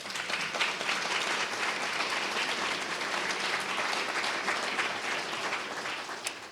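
An audience at a speech on homelessness policy breaks into sustained applause, a steady wash of clapping from many hands that holds evenly at moderate volume for several seconds.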